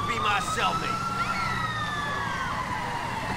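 Police sirens wail continuously in the video game GTA 4: The Lost and Damned, several overlapping tones rising and falling over a steady background rumble and engine noise.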